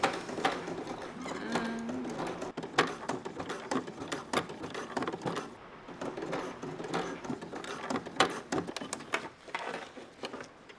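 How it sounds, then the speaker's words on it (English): A domestic sewing machine straining through heavy-duty bag fabric, giving uneven, close mechanical stitching chatter with irregular bursts and brief pauses, no one speaking. "my sewing machine isn't really suitable for this kind of heavy duty sewing"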